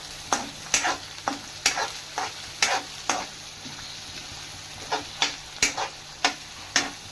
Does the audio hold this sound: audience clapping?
no